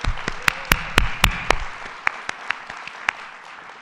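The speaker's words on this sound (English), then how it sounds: "let's have another round of applause for our incredible governor." Applause for New York Governor Kathy Hochul at a mental health announcement: a loud opening flurry of clapping with sharp individual claps standing out, then fading to scattered, sparser claps.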